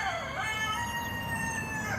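A Sapphire Gem rooster crows close by in one long, drawn-out call that fills the whole moment, steady and fairly loud with no talking over it.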